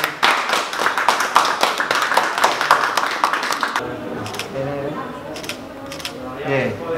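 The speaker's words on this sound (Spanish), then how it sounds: "Un aplauso, por favor, para los recién casados." Guests clap for newlyweds at a civil wedding ceremony, a brisk burst of close, loud handclaps for about four seconds that breaks off abruptly, followed by murmuring voices and a few scattered claps.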